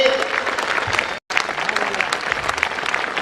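Audience at a Navratri stage event giving a loud welcome to children called up on stage, with dense clapping broken by a brief dropout and voices mixed in.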